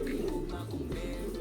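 Racing pigeons coo inside their loft, with low, soft throaty coos rising and falling over a steady background murmur of the flock.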